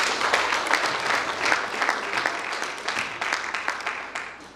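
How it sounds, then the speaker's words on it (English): Audience at a Grade R graduation ceremony at a Christian school applauding a mentor, a full run of hand clapping with some sharper individual claps standing out, tapering slightly toward the end. "Shall we applaud her"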